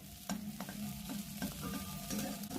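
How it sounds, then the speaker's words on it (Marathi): Curry leaves and coriander dropped into hot oil in a pan, a close crackling sizzle with repeated stirring scrapes and spits at an uneven rhythm, no voices. "तर आता मी टाकत आहे ह्याच्यामध्ये कढीपत्ता आणि थोडीशी यातली कोथिंबीर"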